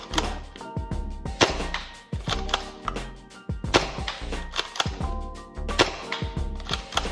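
Toy blaster shots fired at targets: a steady series of sharp, snappy pops and clacks, repeated in quick bursts with brief pauses between, close and fairly loud, with no talking.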